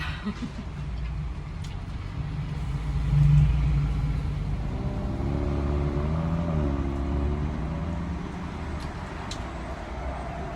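Car traffic rumbles steadily nearby on a street in Germany, with an engine swelling and whirring as vehicles pass, a continuous low roar throughout.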